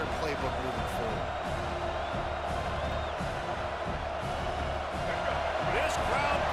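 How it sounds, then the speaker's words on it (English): Dense, steady stadium crowd roar in College Football 26, loud and continuous throughout with scattered cheers and whoops rising out of the wash of noise. "This crowd bringing the energy and noise early"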